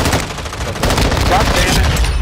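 Rapid bursts of gunfire from a first-person shooter video game, dense and loud throughout, with several close shots overlapping and a faint voice underneath.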